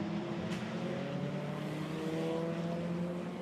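A TCR touring race car on the Nürburgring circuit crosses the finish line, its engine droning steadily and loudly with a sustained tonal roar and no real rise or fall.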